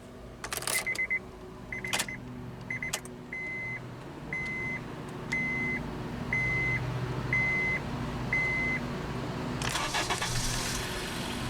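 A run of short, evenly spaced electronic beeps from a 2010 Honda CR-V LX key fob, about one per second, over a low engine hum, with a few clicks near the start.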